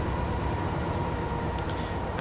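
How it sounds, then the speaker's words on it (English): A freight train in Transport Fever 2 rumbles along loudly and close, a dense continuous roar of wheels and rolling stock hauling a load of bricks, with no voices. "And this train is part of that process."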